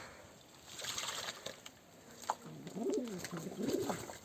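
Pigeons bathing in water, with soft splashing and wing flutters followed by low, rolling coos from a pigeon close by, alone without talk.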